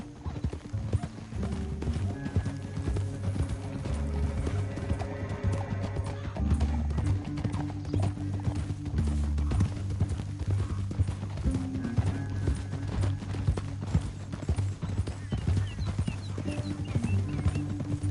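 Horse hooves clip-clop in a steady trotting rhythm throughout a Mortal Kombat 11 game scene, close and clear over a continuous bed of tonal game music.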